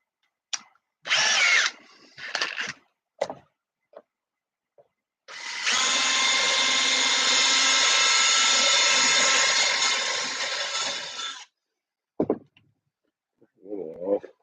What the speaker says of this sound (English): I'm gonna widen the hole out a little bit inside there